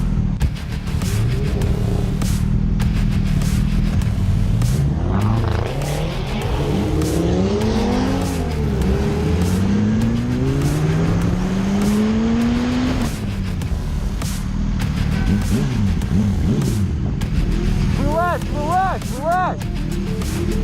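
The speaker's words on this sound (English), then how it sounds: "A BMW driver kept doing hard takeoffs from red lights until his car caught fire" A BMW car does repeated hard takeoffs from red lights, its engine revving loudly with rising and falling pitch sweeps and tire squeal, close and continuous over about twenty seconds, with voices occasionally audible under the noise.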